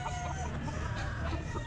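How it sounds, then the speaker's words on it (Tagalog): Chickens cluck at a pet market, a dense layer of steady clucking and fowl calls from several birds close by, with no speech over it. "Ayan mga manok yung bakdik."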